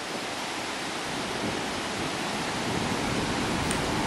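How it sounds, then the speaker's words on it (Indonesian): Telun Berasap waterfall in Kerinci roars steadily as heavy water crashes onto rocks, a dense, unbroken wash of noise holding at constant loudness with no voices. "Suara gemuruh air yang jatuh mengenai bebatuan akan menyambut kedatangan para wisatawan pada air terjun ini"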